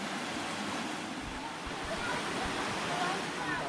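Phlio Waterfall in Chanthaburi pours with a dense, steady roar of rushing water, loud and close for a few seconds.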